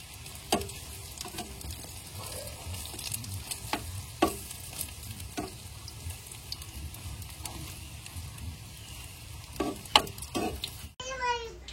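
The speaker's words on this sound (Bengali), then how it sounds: "এখানে যে দেখেন ডিমগুলো মাখিয়ে মাখিয়ে ফ্রাই প্যানে দিয়ে দিচ্ছি আমি।" Beaten eggs sizzle steadily in a hot frying pan during a village breakfast, with scattered clinks and scraping taps of a utensil and a brief clatter near the end; no one speaks.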